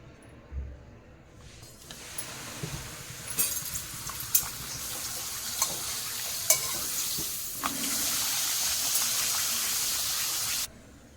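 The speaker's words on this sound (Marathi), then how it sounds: "आता मी तळून दाखवत आहे इकडे तेल गरम झालेलं आहे" Papad made from urad and moong dal is dropped into hot oil and fries with a bright hiss. Scattered clinks and stirring accompany it, and a loud, steady sizzle builds toward the end.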